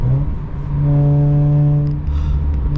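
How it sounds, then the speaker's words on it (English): A Mazda RX-8's rotary engine drones at steady revs with a buzzy, humming tone, the pitch holding and then shifting slightly as it drives. "you guys hear that rotary noise?"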